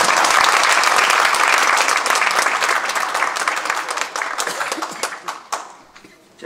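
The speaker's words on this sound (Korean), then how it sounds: "박수 한번 해주시기 바랍니다." A crowd at an installation ceremony of a New York Korean pastors' association gives loud applause, which thins out into scattered individual claps and dies away after about six seconds.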